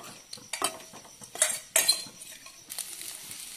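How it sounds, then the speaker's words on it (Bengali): A spoon scrapes and clinks against a pan while chicken keema paste with added sugar is stirred, irregular close metallic taps and rasps with quieter gaps between strokes. "চিনি দেওয়ার পর এটাকে ভালো করে নাড়িয়ে নিতে হবে"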